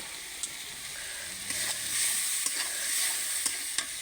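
Tomato and spice masala for an egg curry sizzles quietly in a pan, a low continuous hiss broken by a few light clicks of stirring, with no talking.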